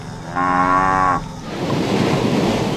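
Cattle in Brazil's large cattle industry mooing, one loud close low moo lasting under a second, then fading into a breezy open-air rumble.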